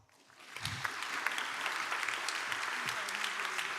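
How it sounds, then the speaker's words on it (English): Applause at a Kabbalat Shabbat worship service swells within half a second into sustained clapping from the congregation, dense and steady to the end. "Let's give him a round of applause"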